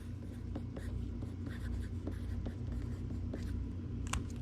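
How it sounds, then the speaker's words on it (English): Pen scratching out "do not bend" on a priority mail legal flat rate envelope, a steady run of short scribbling strokes close up over a low background hum. "So we write the do not bend"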